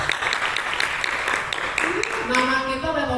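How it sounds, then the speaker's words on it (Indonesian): Church youth congregation applauding at a teens' worship service, a steady wash of clapping through the whole stretch with a voice speaking over it near the end. "Tepuk tangan buat kalian dong. Dan tepuk tangan yang lebih banyak buat Tuhan."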